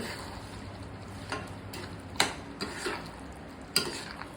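Spice powder stirred into Chidambaram gosthu in a pan, a soft simmering hiss broken by a few sharp spoon clinks and scrapes against the metal, close and with no talking.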